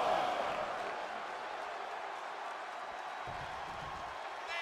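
A wrestling arena crowd in the WWE 2K23 video game keeps up a steady, distant roar of cheering through a match between The Hurricane and Shanky, with no clear individual voices standing out.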